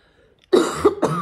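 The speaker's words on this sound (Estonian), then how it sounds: "Tuleb köhimise paus." A close, loud cough from a speaker during a talk, a sharp double burst after a brief silence, with no speech over it.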